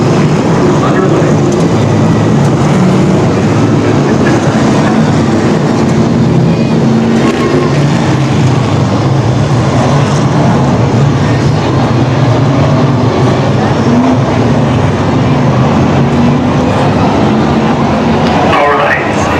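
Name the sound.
stock cars rolling by on speedway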